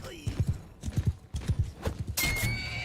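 A horse in the game Mount & Blade gallops with clusters of rhythmic hoofbeats close by, then whinnies near the end, with a faint voice at the start.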